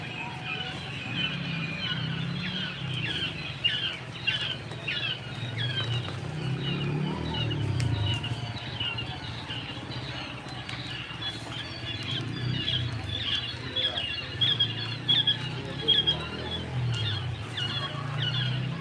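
Many small chicks, eight to fifteen days old, chirp and peep continuously in a dense chorus, steady and fairly loud, with a low background rumble throughout.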